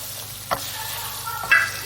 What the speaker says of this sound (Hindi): तकरीबन 5 मिनट के लिए इसको फ्राई करेंगे अच्छी तरह